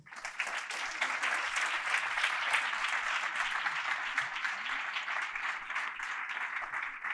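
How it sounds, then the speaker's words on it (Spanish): A crowd at a social sector community event applauds continuously, a smooth, sustained wash of many hands clapping at moderate volume, heard from some distance for several seconds. "Un fuerte aplauso para ella."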